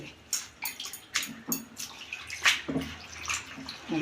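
Spinach is washed by hand in a bowl of salted water, with close splashing, sloshing and dripping in irregular bursts.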